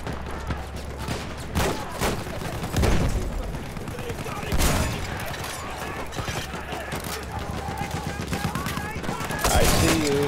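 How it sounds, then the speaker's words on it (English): Incoming mortar fire in the video game Battlefield 1: heavy rattling gunfire runs throughout, broken by several loud booming blasts near the start, middle and end of a busy battlefield din. "We've got enemies coming in. Mortars coming in."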